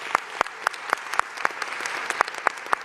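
A small group at a recreation center opening claps, with a few distinct, sharp hand claps standing out over softer scattered applause.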